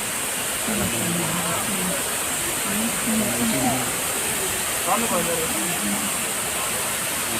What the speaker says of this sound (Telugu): దారిలో దగ్గరలో ఒక వాటర్ ఫాల్ ఉంది